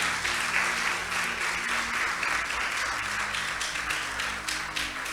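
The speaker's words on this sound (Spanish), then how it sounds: "Un fuerte aplauso." A church congregation breaks into loud, sustained applause, dense clapping filling the room with a low background hum beneath it.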